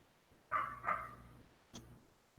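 Outside, a dog barks twice in quick succession and then once more, all of it faint and distant against a quiet room hum.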